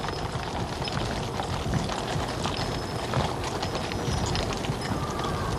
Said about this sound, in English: The Queen's carriage will be drawn by grey horses,